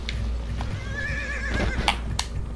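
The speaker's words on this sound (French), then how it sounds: "diriger les chevaux dans les petits virages comme ça" A horse in a video game neighs in a wavering whinny over a low rumble, with soft clip-clop hoofbeats mixed in nearby.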